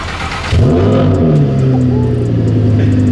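A tuned Audi R8 with a Stage 4 flame tune revs hard up close, its engine note climbing and holding loud and steady throughout.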